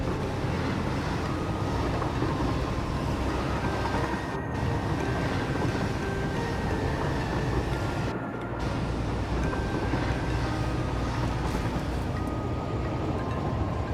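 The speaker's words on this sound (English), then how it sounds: "Alright, here's the train." A train pulling into a station in the video game Satisfactory, heard as a loud, continuous mechanical rumble and hum with no voices, broken by two short dips.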